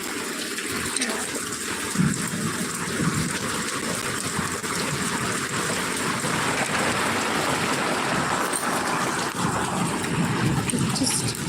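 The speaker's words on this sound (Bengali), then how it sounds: "প্রচণ্ড বৃষ্টি হচ্ছে প্রচন্ড" Heavy rain pouring steadily, a dense loud wash of falling water with no pauses.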